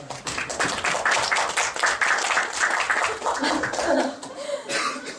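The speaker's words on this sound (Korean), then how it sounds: "한 분 한 분 나올 때 좀 큰 박수로 맞이해 주시길 바랍니다" An audience at a leadership school book presentation claps to welcome presenters, a close, busy patter of hands with light laughter mixed in, fading toward the end.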